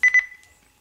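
Two quick electronic beeps from a Captain Waterproof Bluetooth sport speaker reaching maximum volume sound close together, clear and bright, then fade into near silence.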